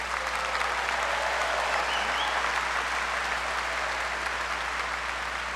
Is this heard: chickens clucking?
no